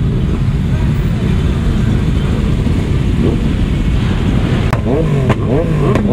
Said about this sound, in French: MT-09, putain le boucan que ça fait frérot.